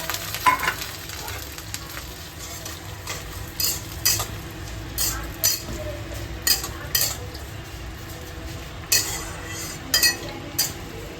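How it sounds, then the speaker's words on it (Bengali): Oil sizzles steadily as vermicelli fries in a pan while a utensil repeatedly scrapes and clinks against it in irregular strokes. "সিমাইটা আমি তেলে দিয়ে ভেজে নেব।"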